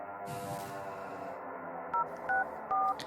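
Three short telephone dialing tones in quick succession, with a continuous humming background underneath.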